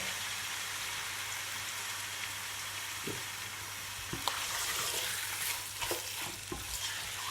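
Mutton pieces frying in half a cup of hot oil in a pot, a continuous quiet sizzle with several sharper crackles and spits where the meat is added and stirred.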